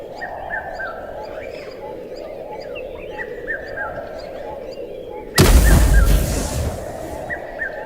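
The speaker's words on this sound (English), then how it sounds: "The jungle erupts. Birds flee." Many birds call and chatter over a dense jungle background, then a sudden loud blast erupts and slowly rumbles away while the calls continue.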